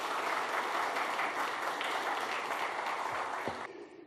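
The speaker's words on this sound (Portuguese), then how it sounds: "Queria que vocês Dessa salva de palmas para a Fabrícia." Sustained applause from a church congregation welcoming a woman onto the stage, dense and steady for several seconds before tapering off at the end.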